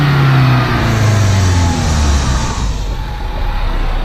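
A turbocharged car engine winds down from a loud, close rev, its tone dropping smoothly and settling into a rough, steady idle rumble with no voices.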